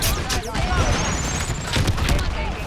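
Frag grenade and flashbang blasts go off in Call of Duty: Modern Warfare 3 amid a dense barrage of gunfire and booming, with a whistling streak overhead and voices talking over the chaos.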